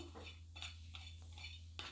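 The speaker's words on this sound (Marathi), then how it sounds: "आपल्याला हे खोबरं पण थोडंसं तेल टाकून भाजायचं आहे" Sliced coconut dry-roasting on an already greased tawa, turned with a metal spatula. It makes quiet, intermittent scraping and clinking strokes in a soft rhythm, with a faint low hum underneath.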